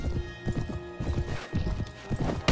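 Horse hooves clatter in rapid, uneven clip-clop rhythm while galloping in the Mount and Blade video game, with brief whinnies and battle ambience layered beneath.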